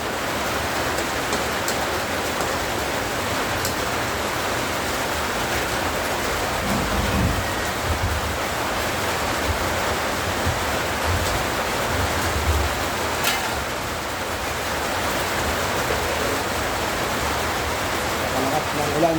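Heavy rain pours down in a dense, loud and continuous hiss, with a low rumble briefly swelling partway through and a few sharp clicks above the downpour.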